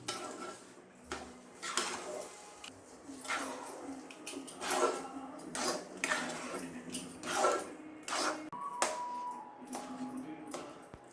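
Sugar being mixed into kesari bath in a pan, with repeated close clinks and scrapes of a spoon against metal in an uneven rhythm over a soft background.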